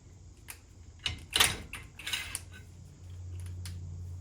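Metal clanks and scrapes as a brake rotor is worked loose on a 2007 Subaru STI, several sharp irregular knocks followed by a low steady hum.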